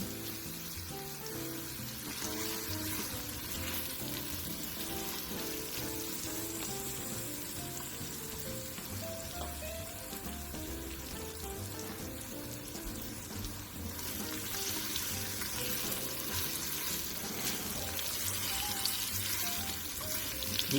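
Finely chopped onion frying on low to medium heat makes a steady, even sizzle that runs unbroken for about twenty seconds and swells slightly louder in the second half.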